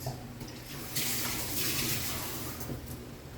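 A small stream of water poured into a pot of cabbage for steaming, a steady close splashing pour that swells briefly in the middle before easing off.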